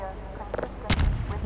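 Gunfire in the video game Half-Life 2 Episode Two: a heavy booming shot bursts out midway over a low rumble, with brief talking just before it.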